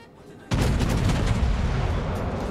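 A warship's naval gun fires in World of Warships, a sudden loud boom at about half a second that rolls into a long, dense rumble of reverberating naval fire through the rest of the clip.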